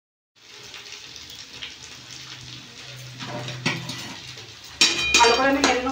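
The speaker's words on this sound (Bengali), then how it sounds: "ভালো করে আমি নেড়ে নেবো, নামিয়ে নেবো।" Muri ghonto made with Gobindobhog rice and ghee being stirred in a pot, metallic scraping and clanking of a spoon against the vessel that grows louder and busier toward the end.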